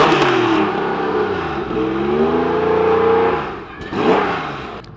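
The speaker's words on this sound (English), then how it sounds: "This is a race-bred engine, 400 brake horsepower, state-of-the-art technology." A race-bred Porsche 2.4 engine rated at 400 horsepower revs in rising and falling sweeps, loud and close, with a second rev burst near the end, shown among new supercars at Salon Privé 2019.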